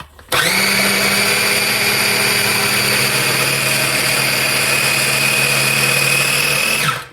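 Blender whirring molasses into sugar to make brown sugar, starting abruptly and running at a loud, steady high-pitched whine for about seven seconds before cutting off, with no talking.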